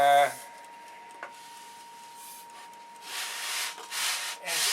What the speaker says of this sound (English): so you get your long sanding bar